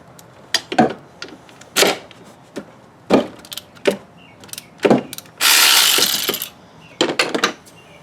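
A ratchet wrench with a 13 mm socket works a bolt loose on an old Oldsmobile 98 engine during belt tensioner pulley replacement, sounding in several close, sharp bursts of clicks with one longer, steady run of rapid ratcheting.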